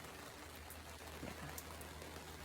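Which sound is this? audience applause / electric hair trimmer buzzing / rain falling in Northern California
rain falling in Northern California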